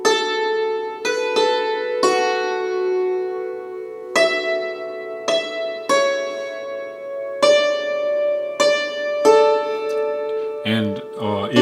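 A hammered dulcimer plays the Silent Night melody as single struck notes at a gentle, lilting pace, each ringing on with a shimmering sustain, close and clear, with a brief rustle at the end.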